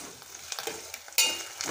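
Ginger-garlic paste sizzles in oil alongside mushrooms for a masala curry, a brief, soft frying crackle broken by a few stirring taps and a sudden louder hiss.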